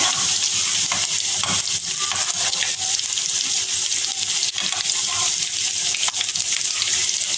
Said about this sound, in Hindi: ब्रेड क्रम्स में हम जो है इनको डिप करते जाएंगे। फ्राई होने के लिए रख देंगे।